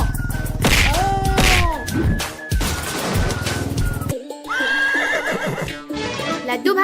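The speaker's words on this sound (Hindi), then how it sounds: "घोड़े जल्दी से रेडी हो जा।" A horse gives a loud, close whinny, followed by a second neigh, mixed with clip-clop, thwacks and crash effects. There is no speech.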